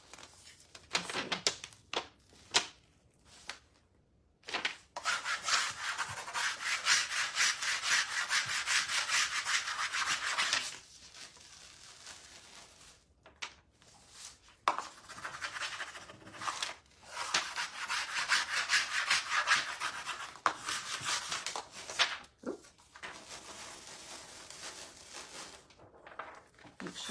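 Rubbing a transfer sheet onto a wooden fall sign, long stretches of steady close scraping friction broken by pauses and light taps, fairly quiet.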